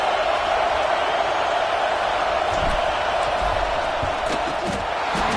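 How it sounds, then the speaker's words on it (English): A football stadium crowd roars steadily through a field goal attempt, a dense, continuous wall of noise with scattered shouts and whoops rising above it. "This crowd trying to do its part to get inside the kicker's head."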